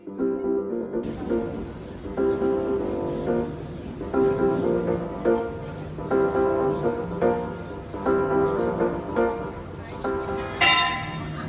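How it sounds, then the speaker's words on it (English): A clock tower bell in Kotor, Montenegro tolls repeatedly at a steady pace, each strike clanging with a harsh, ringing tone and a lingering decay, with some faint background noise from the street. "That's a pretty crappy sounding bell on the clock tower."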